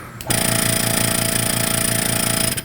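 An Airbrush Depot TC-20 airbrush compressor kicks on abruptly and runs with a loud, pulsing motor rattle before cutting off near the end, with no speech.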